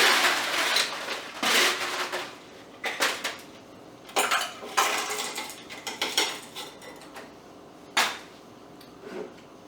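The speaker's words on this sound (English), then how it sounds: "Fill a cup with ice." Ice cubes clatter into a cup while making a Mayan Mule cocktail, a run of sharp rattling clinks in irregular bursts, close and fairly loud, with no talking.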